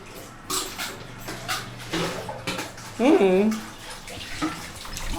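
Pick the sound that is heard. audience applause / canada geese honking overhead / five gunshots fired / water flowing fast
water flowing fast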